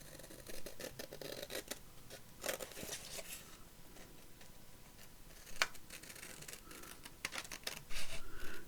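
Scissors snip through cream card on a paper-craft folio, a run of crisp, close, irregular cuts and paper rustles with no talking.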